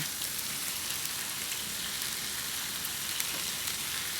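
Beef and mushrooms stir-frying in a hot pan for Hokkien noodles, a loud, steady crackling sizzle with scattered spattering pops and no talking.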